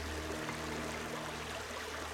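Creek water runs steadily at a favourite fossil hunting spot after heavy flash-flood rains, giving a soft, continuous trickling wash heard alone throughout, with a faint low hum beneath.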